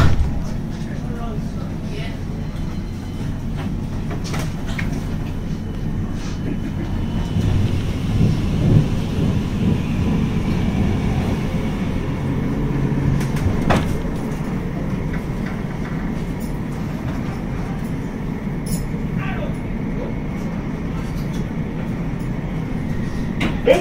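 West Midlands Metro tram pulling away from the Corporation Street stop, heard from on board: a steady, close low rumble and motor hum runs throughout with occasional rattles and clunks, while faint passenger voices murmur underneath.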